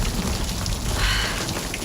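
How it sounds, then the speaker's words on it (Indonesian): Heavy rain pours steadily in a dense, loud, even hiss with low rumbling, with no voices heard. "kok bisa hujan begini sih?"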